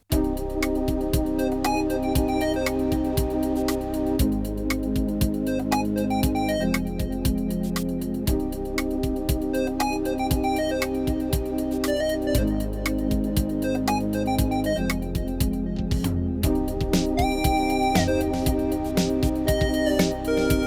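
A synthesizer built around a 90s gaming soundcard plays an auto-accompaniment rhythm section, a steady looping drum-and-bass groove with repeating beats, fills and chordal tones, loud and unbroken throughout.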